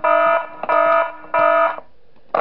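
In the video game Five Nights At Smash Bros 3, three long harmonic alarm blares sound in a steady pulsing pattern, with a fourth starting at the end; loud, electronic and close.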